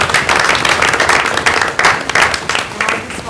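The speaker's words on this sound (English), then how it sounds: "give her a big round of applause" Audience applause at a community college advisory council meeting, a steady dense clapping loud and close throughout, with a few voices mixed in.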